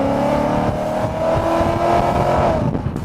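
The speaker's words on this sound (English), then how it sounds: "It is the duetto of the supercharger and the intake singing from the front, and that titanium musical instrument in the back, the lightweight exhaust system" A G-Power BMW M3 with a supercharger, front intake and lightweight titanium exhaust sings loudly up close, a sustained engine tone rising and holding with supercharger whine, steady and unbroken throughout.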